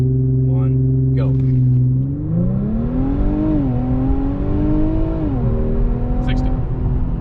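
A 2021 Infiniti Q50 400 Red Sport with all-wheel drive revs up hard from a launch and climbs through the gears, its pitch rising, dropping at each shift and rising again, loud and close.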